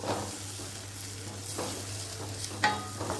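Tomato stirred into onions in a hot pan: a steady sizzle of frying runs throughout, with soft scraping stirs at intervals and a sharper clink of the utensil near the end, no voices.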